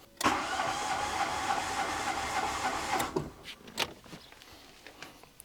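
Two-cylinder Renault Twingo engine cranking over for a compression test, a rapid rhythmic churning for about three seconds that stops abruptly, followed by a few faint clicks and clanks.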